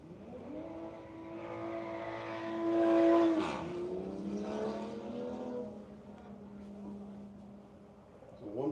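The Parts Farm Porsche race car circles a dry skid pad, its engine holding a steady high-pitched whine that rises and falls with throttle, fairly close and loud, while a commentator talks over it.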